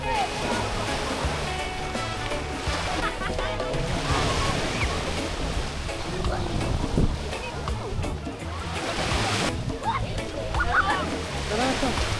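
Ocean waves wash continuously onto the shore at a beach in Laiya, a steady loud surf roar with swells rising and falling, while voices talk faintly underneath.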